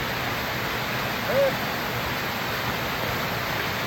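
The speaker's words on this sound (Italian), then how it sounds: "We have finally arrived to San Giovanni Falls." San Giovanni waterfall on the Maiella mountain in Abruzzo roars as a steady broadband wash of falling water, close and constant, with a brief faint voice-like sound over it.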